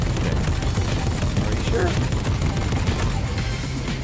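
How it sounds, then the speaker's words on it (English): Gunfire in the Fortnite video game, a dense rapid clatter of shots running steadily throughout while players talk briefly over it. "I see a lot of gunfire."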